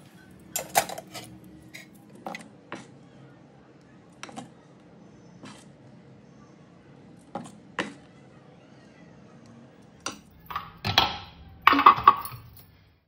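Plates being set out in a home kitchen while making mandia idli and chutney: sparse clinks and knocks of dishware in a quiet room, a few sharp taps spaced apart, then a busier cluster of clatter near the end.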